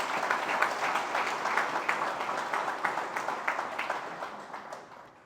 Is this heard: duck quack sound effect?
no